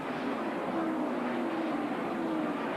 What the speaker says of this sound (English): Ernie Irvin's car coming in.